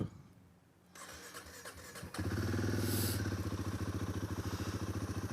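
A 2024 Royal Enfield Himalayan 450 motorcycle starts up close by, a brief starter whir catching into a loud, steady, throbbing idle.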